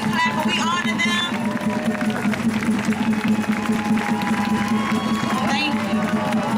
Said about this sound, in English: we clap and we honor them